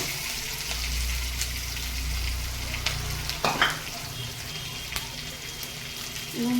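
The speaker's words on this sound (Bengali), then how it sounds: "ঢ্যাঁড়সটা একটু ভাজা ভাজা করতে হবে" Okra frying in a pan for a spicy prawn-and-okra curry gives a steady, close sizzle throughout, with a brief stirring scrape about halfway. No one talks.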